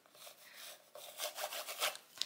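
Acrylic paint rubbed lightly over the edges of a canvas gives soft, short scratchy strokes, close and quiet, in a few uneven passes.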